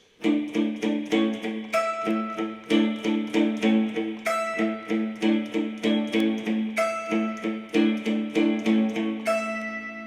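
An electric guitar picks the arpeggiated riff from U2's "Bad" with no delay effect, playing steady, evenly spaced notes that ring clearly and end dry, loud and close with no talking.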